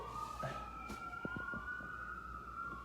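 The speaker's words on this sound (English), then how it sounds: "there's some sirens going on here in Philly" A siren wails faintly in the distance in Philadelphia, a long steady tone drifting slightly in pitch, with a few light knocks nearby.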